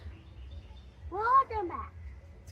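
A wood duck outdoors gives a short, rising, squealing call of two or three quick notes at moderate distance over a low background rumble.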